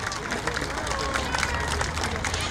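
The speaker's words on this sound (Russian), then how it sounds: "Громкие аплодисменты!" Audience applause after a song at a folk-music concert, a steady, dense wash of clapping and crowd noise filling the whole moment at close range.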